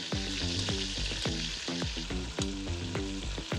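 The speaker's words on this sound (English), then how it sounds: "Just bring it up to hot and sear your pork rib until it's" Pork rib searing in hot canola oil inside a pressure cooker, a loud close sizzle with rhythmic crackling pops and spatter repeating through the whole stretch.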